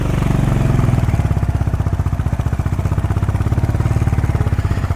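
On a steep hill track, a motorbike's engine strains under heavy load, a loud nearby stream of fast, even exhaust beats that keeps pulsing throughout, with no talking.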